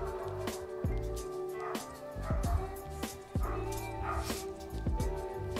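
A dog yips, whimpers and gives short barks in an uneven series of bursts, fairly close, over a steady tonal hum with no speech.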